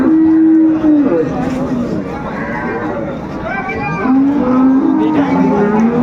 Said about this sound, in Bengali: বেশ সুন্দর গাভী বাছুর।